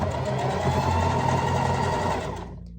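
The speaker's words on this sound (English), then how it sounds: "is just sewing around where I showed you guys where I put the pins." A sewing machine stitches around the front and hood of a robe, with a fast, steady whirring buzz that slows and fades near the end, close and alone.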